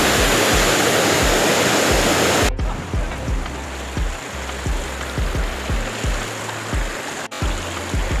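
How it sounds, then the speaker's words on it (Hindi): Rushing water at Barabakhra waterfall in Bargarh, Odisha, a steady broadband roar close by, with an abrupt shift in level and tone partway through and brief knocks and bumps under the continuous flow. "मैं अभी मेन वाटरफॉल के पास आ चुका हूँ"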